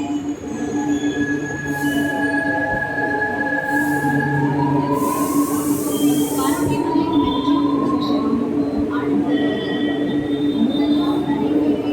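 A metro train running on a glass-covered line, with a loud, constant rumble under high drawn-out wheel squeals and shifting tonal whines, heard close up from inside.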